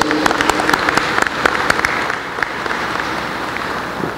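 Audience applause for a group of sixteen aviation trainees at the formal launch ceremony of an avionics trainee engineer programme, steady dense clapping filling the hall for several seconds and slowly thinning toward the end.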